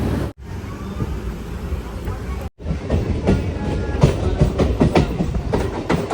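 A MEMU passenger train rumbles steadily along the rails between Markapuram and Tenali, with a rhythmic clickety-clack of wheels over track joints, loud and close throughout.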